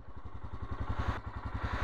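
Loaded touring motorcycle idling on a mountain road in Zanskar, Ladakh, its engine a steady, rapid low thumping pulse, close and fairly loud throughout with no talking.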